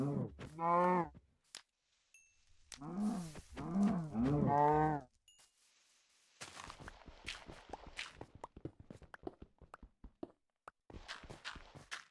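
Cows moo in Minecraft Bedrock Edition, several loud, close lowing calls with pauses between them, followed by a run of footstep-like clicks and thuds.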